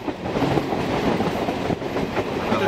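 An electric train runs on rails on the approach to Kolkata, a steady, loud rumble with rattling wheel and carriage noise that continues throughout without speech.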